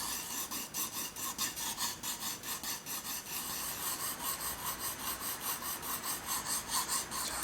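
Pencil shading on paper while drawing a cylinder, long fine strokes rasping back and forth in a close, steady rhythm, quiet and alone.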